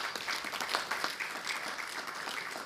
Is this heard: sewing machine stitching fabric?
no